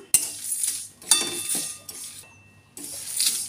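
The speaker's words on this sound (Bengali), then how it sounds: "আঁচ বন্ধ করে দিয়ে গরম কড়াই একটু নেড়ে নিচ্ছি।" A metal utensil scrapes and clinks against a hot wok in a few short bursts with brief pauses as fenugreek seeds and spices are stirred with the heat off, close and fairly quiet.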